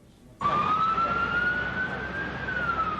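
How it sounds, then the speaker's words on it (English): An ambulance siren wails steadily close by on a New York City street near the World Trade Center, a loud sustained tone that rises slowly and then dips, with low traffic rumble underneath. "Row upon row of ambulances from all around New York and its suburbs"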